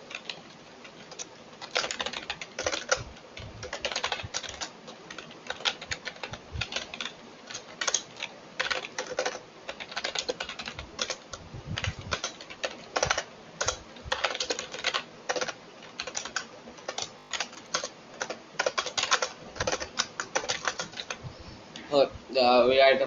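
Rapid, uneven typing on a computer keyboard while code is entered, a dense run of close, crisp key clicks with short pauses, continuing for the whole stretch with no talk.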